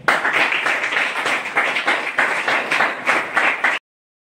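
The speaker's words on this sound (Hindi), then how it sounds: "तो दोस्तों, आज माहौल भी है और समय भी है, तो हम चाहेंगे कि एक जोरदार तालियां हो जाए अपनी सेहत के नाम पे।" An audience claps loudly at a health talk, a vigorous burst of many hands with rhythmic swells lasting several seconds, then stopping sharply into silence.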